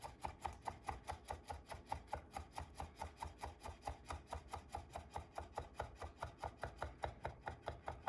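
A carbon steel 210 mm Masahiro gyuto dices food into small cubes on a cutting board, its steady quick knocks repeating evenly and close up, with no one talking.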